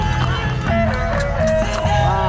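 Horse hooves clip-clop amid a lively street horse-dancing parade in a village, with loud music and people talking over the busy scene.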